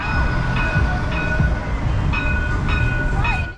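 A train passing nearby during a rainy stop in Cincinnati, a loud continuous rumble of rolling cars with metallic screeching squeals of wheels on rails riding over it.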